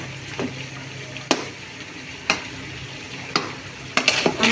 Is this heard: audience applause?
no